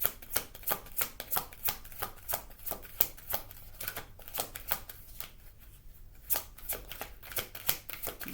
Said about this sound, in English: Big old cards, they're hard to shuffle